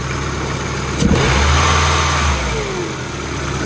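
An old, rotten, long-abandoned Ford car engine runs close by with a rough idle, then revs up and holds at a hovering speed before dropping back down, with no talking.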